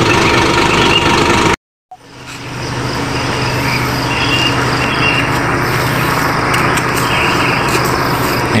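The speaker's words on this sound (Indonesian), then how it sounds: "Ini dengan mesin Hino" Hino RM280 engine of a new express bus idling loudly and steadily, a deep constant rumble after a brief cut near the start.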